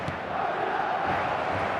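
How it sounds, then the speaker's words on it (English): A football video game's stadium crowd roars after a Madrid goal, a dense, continuous wash of cheering and shouting that stays at an even level for under two seconds, with no commentary on top. "the crowd level has gone up a notch or 10"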